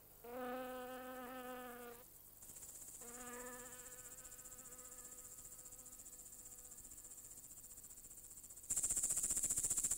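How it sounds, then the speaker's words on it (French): Insects such as grasshoppers and crickets in grass: buzzing, harmonic drones that start, stop and resume, giving way to a steady high-pitched chirring that grows louder near the end, with no voices. "Des insectes, comme les sauterelles et les criquets."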